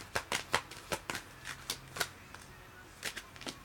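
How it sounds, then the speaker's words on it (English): Tarot-style vortex cards are shuffled close by in quick, crisp riffles and flicks, a string of short papery bursts in a quiet room. "I'll go into the vortex cards, because these are about relationships."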